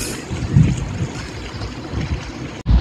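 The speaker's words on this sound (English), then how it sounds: "it looks like the only other yacht in the bay is departing now" A yacht motors out of a bay off Coffs Harbour, its engine a low steady rumble mixed with wind buffeting the microphone and water noise, with no voices.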